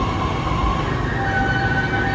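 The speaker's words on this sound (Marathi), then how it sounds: "ट्रेन आली आहे" A Pune metro train arrives at a station with a loud, steady rumble and faint high whining tones.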